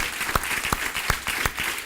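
Applause for the King of Kings during a church service, heard as a scattered run of distinct hand claps at a steady pulse over a faint roomy background wash.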